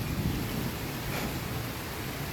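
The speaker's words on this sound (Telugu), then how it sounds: "వర్షం పడుతుంది." Steady rain pours down during a thunderstorm in Warangal, a dense continuous wash of sound with a low thunder rumble underneath, heard alone without voices.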